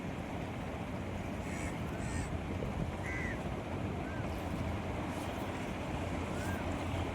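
Sea waves washing against the shore near a temple beach at Villoondi Theertham in Rameswaram, a steady broadband wash with wind noise, constant and fairly close, with no distinct breaks standing out.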